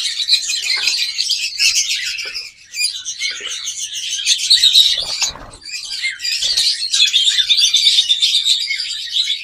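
Close, continuous shrill chirping and squawking from a pair of blue mask lovebirds, dense overlapping calls with only brief dips, and no voices.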